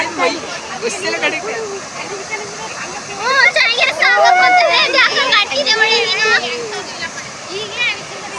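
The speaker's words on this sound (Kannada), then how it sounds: "ಜಲಪಾತ" Waterfall at Chunchanakatte roaring as a steady broadband rush, with several people, including children, talking and exclaiming close by over it.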